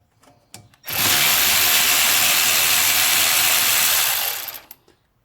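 A power tool spins out a 10 millimeter bracket bolt near the brake line during a Trailblazer Envoy 4.2 engine swap. It makes a loud steady whir for about three seconds after a few light clicks and taps, then winds down.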